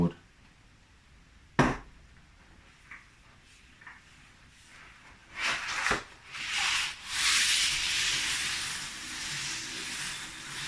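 A vacform plastic model part for a 1/72 AEW Wedgetail is rubbed over 120 grit sandpaper taped to a board, starting with a few knocks and then building into steady scratchy back-and-forth strokes close by.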